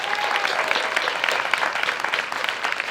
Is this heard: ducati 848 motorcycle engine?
no